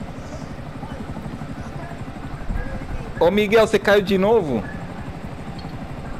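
Helicopter in Grand Theft Auto V, its rotor chop pulsing steadily in the background throughout while people chat over it in Portuguese.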